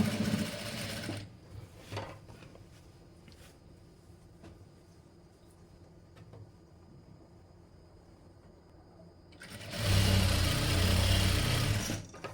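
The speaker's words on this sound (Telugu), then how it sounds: "లాస్ట్లో స్టిచ్ వేసేసుకొని చెక్ చేసేసుకోవాలి" A sewing machine stitches the side seam of a blouse in two loud, close bursts of rapid mechanical whirring, one brief at the start and one longer near the end, with quiet handling noise in between.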